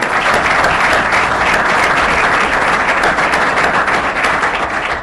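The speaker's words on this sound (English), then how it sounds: "Let's hear it for Terry Marcus" Loud, sustained applause from a large audience, dense clapping filling the whole stretch without a break.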